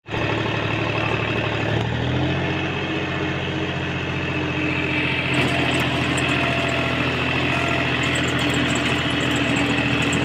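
A tractor engine idles and runs steadily with a seed drill attached on a farm field, a continuous loud droning hum that holds for about ten seconds, with the pitch shifting slightly early on and no voices.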